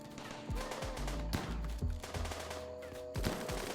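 Vertigo weapon firing in a RimWorld mod, several thumping, booming shots in quick succession over a tonal hum, fairly quiet overall.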